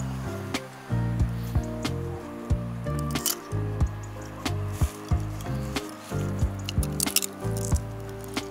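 Frozen water in an opened plastic water jug cracks and shifts, making a series of sharp crunching and knocking bursts at irregular intervals, close by, with no talk.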